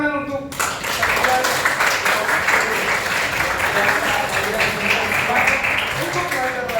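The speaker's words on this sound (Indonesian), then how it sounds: "Ya, tepuk tangan untuk" A school class in an Indonesian biology lesson breaks into applause, brisk close clapping from many hands starting after a short spoken cue and continuing steadily to the end, with a voice returning at the close.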